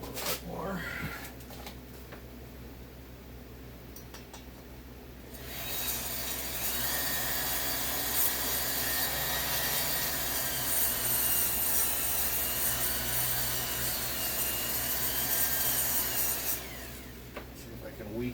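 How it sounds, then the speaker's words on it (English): Steady hand abrasion on a stubborn chamber, a continuous rough scraping that runs for most of the stretch at moderate loudness, with quieter handling noise before and after. "Sand a little bit more."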